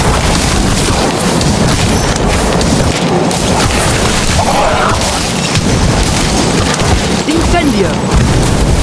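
The Sectum Sempra spell in Harry Potter: Magic Awakened hits with loud, continuous booming blasts and rumbling noise that fill the whole stretch, dense and close, with a voice mixed in.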